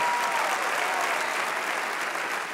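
Worshippers in a church fill the space with steady, dense clapping, a brief unbroken roar of applause heard alone without any talking.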